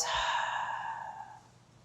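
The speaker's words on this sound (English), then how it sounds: "Big breath in. Breath out." A long, deep breath out during a restorative yoga twist, a soft airy exhale close by that fades gradually over about two seconds, with no talk.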